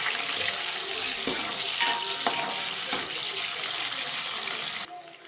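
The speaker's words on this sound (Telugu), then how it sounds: "ఇప్పుడైతే సన్నగా తరిగిన ఎర్రగడ్డ అయితే వేసి దోరగా వేయించుకోవాలి." Thinly sliced onion frying in oil in a pan alongside seeds, for a Rayalaseema-style potato and cauliflower curry, with a steady close sizzle marked by a few sharp clinks of a spoon before the sound drops away near the end.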